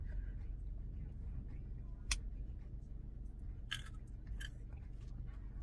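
A few sharp crunches as someone bites into a small homegrown carrot, brief bursts at close range over steady low background hum, with no talking.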